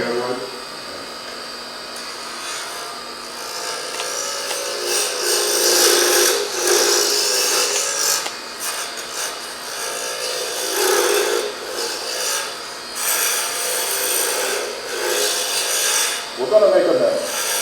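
A hand scraper shaping a resin duck call on a lathe, steady rasping and scraping that swells and fades in waves throughout, with a brief knock near the end.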